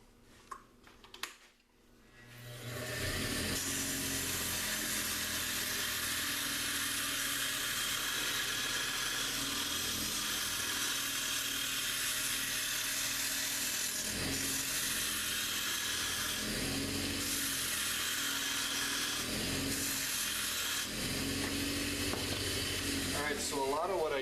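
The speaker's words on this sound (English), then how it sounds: "Now what I do is I'll take my round scraper and I'll just true everything up a little bit" A round scraper trues up a wood fishing rod handle spinning on a lathe, producing a steady hissing, rasping drone that starts after a few seconds of quiet and runs on with small bumps.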